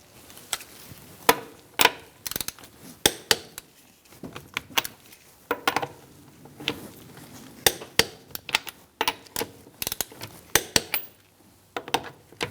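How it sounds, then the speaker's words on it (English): A torque wrench tightens the wheel lug nuts on a 2004-2009 Mazda 3 in a star pattern, giving a long run of sharp, close mechanical clicks and ticks at an irregular pace with short pauses between nuts. "We're going to torque our wheel to 85 foot-pounds in a star-like pattern."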